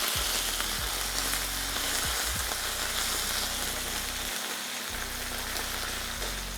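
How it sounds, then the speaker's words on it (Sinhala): Ginger and garlic fry in hot oil until golden, a steady, dense sizzle close up that stays constant across the whole stretch, with no voices. "දැන් ඊට පස්සේ අපේ ඉඟුරු සුදු ලුණු එක දැන් රන්වන් පාට වෙලා තියෙන්නේ."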